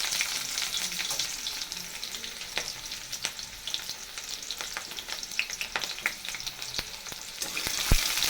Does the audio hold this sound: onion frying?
yes